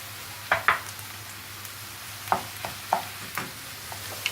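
Minced meat fries quietly in a pan with softened onion and pepper, a low sizzle broken by a few sharp spatula clicks and scrapes.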